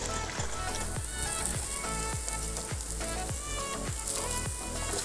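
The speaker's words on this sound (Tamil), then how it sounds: "கிளறிட்டு இருக்கோம்." Ukkarai sweet mixture sizzles steadily in a pan while being stirred, a dense continuous frying crackle with soft rhythmic scraping strokes roughly every second, close and even, no voices.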